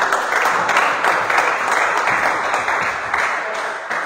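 A church congregation at a Sunday worship service applauds together in acclaim of the Lord, with loud, sustained clapping filling the room for several seconds.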